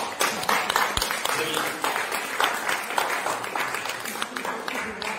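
Audience applause fills the room throughout at a French evening gathering on peasant agroecology in Pujols, Lot-et-Garonne, as a steady, dense burst of clapping with a few sharper claps standing out.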